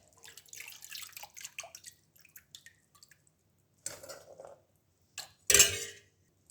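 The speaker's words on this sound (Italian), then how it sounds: "Adesso ricomincio a riempire il mio torchietto." Small dry myrtle berries rattle and patter into a little hand press, a scatter of light taps and trickles that builds to a few louder clinking pours near the end.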